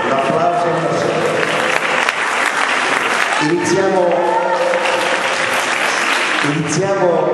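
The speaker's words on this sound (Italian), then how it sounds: "Un applauso a Marcella." Steady applause from a charity evening audience fills the whole stretch, with a voice talking loudly over the clapping.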